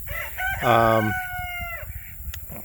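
A rooster crows once, loud and close, a long ringing cock-a-doodle-doo, with faint rustling and background noise after it fades.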